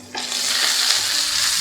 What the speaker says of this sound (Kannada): ಸಾಸಿವೆ, ಒಣಗಿದ ಮೆಣಸಿನ್ಕಾಯಿ, ಜೀರಿಗೆ ಎಲ್ಲ 1 ಫ್ಯೂ ಸೆಕೆಂಡ್ಸ್ ಫ್ರೈ ಮಾಡ್ಕೊಳ್ಳೋಣ